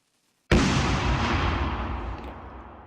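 A grenade detonating in a shooter video game: one sudden loud, close blast after brief silence, followed by a broad roaring tail that slowly fades.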